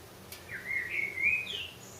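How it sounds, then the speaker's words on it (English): A short, fluting blackbird phrase rises and warbles over faint background hum, fairly close, one brief song lasting about a second. "Some nice blackbird song today."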